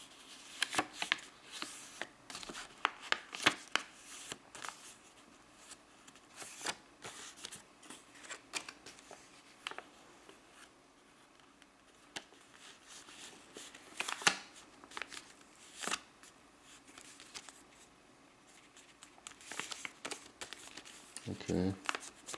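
White computer paper is folded into an origami whale, making repeated crisp rustles, creases and soft crinkles at close range, in irregular bursts under quiet talk.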